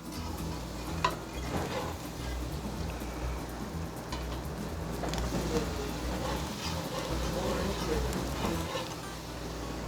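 Turkey stock is stirred into hot roux for giblet gravy, a steady sizzling, bubbling hiss with soft scraping from the stirring, close and continuous, while a person talks in the kitchen.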